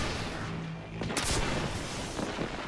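Grenade blasts and gunfire in the video game Destiny, fought in a solo Prestige Nightfall strike: a sharp, loud burst of explosive noise after a low rumble, then scattered shots over a dense, noisy battle bed.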